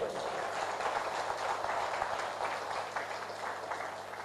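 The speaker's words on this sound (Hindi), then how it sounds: "उनके लिए एक हाथ ताली हो जाए" A seated audience at a DXN business opportunity meeting applauds, a soft continuous wash of clapping that holds evenly throughout without any clear peaks.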